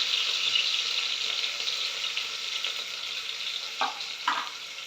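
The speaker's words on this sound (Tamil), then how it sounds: "எண்ணெய் காஞ்சிடுச்சுங்க. வெங்காயம் போட்டுக்கலாம்." Onions fry in hot oil with a dense, steady hiss close by, and two quick stirring scrapes near the end.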